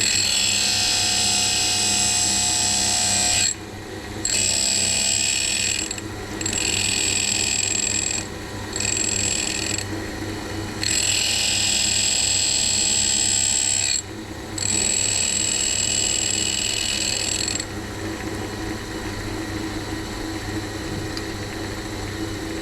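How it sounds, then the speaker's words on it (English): Hercus tool and cutter grinder with its wheel grinding a threading tool, a steady high whine with repeated brief dips as the tool touches and lifts off, close and continuous. "it's only cutting on the very edge of the wheel,"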